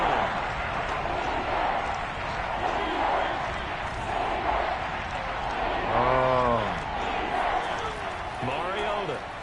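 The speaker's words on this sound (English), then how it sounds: "Crowd getting in it a bit already." Stadium crowd noise from an American football video game, a steady broad roar filling the whole stretch, with a commentator's voice briefly rising over it.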